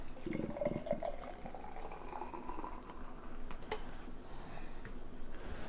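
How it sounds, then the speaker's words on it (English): Cinderlands and Hop Butcher beer poured aggressively into a glass, a close, steady liquid splash and fizz running throughout with a few brief gurgles near the start. "I definitely poured it pretty aggressive"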